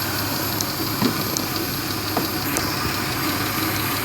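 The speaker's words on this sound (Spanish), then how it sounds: "con el vehículo encendido" A 1996 Toyota Camry engine idles steadily with a low, continuous rumble and faint ticking, heard up close on its own with no one talking.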